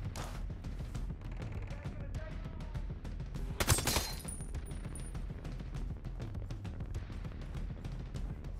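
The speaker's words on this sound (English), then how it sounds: "I'm here, laying down fire." Rapid gunfire in the tactical shooter Ghost Recon Breakpoint, a steady low rumble of automatic shots with one louder, sharper burst standing out near the middle.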